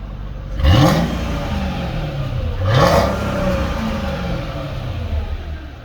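A 1938 SS Jaguar drophead with the 3.5-litre engine revs twice in a workshop, each loud rising blip falling back to a steady, rumbling idle, with no one speaking.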